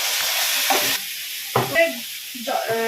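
Garlic paste sizzles and fries in a pan for chicken korma, with stirring scrapes and bursts of hissing that rise and fall, close and fairly loud, with no talking.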